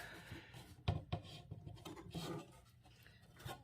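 Wood being trimmed on a nightstand part, heard as quiet scraping and rasping strokes with a few sharper knocks, close and faint.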